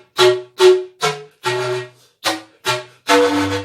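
Blown cane wind instrument with an inner cane chamber plays seven separate breathy, tonal notes in turn, each a short held tone with small gaps between, close and fairly loud.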